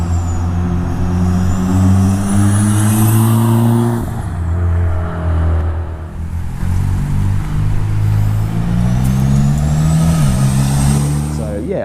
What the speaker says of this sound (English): I really wanted to hear what this car sounded like from the outside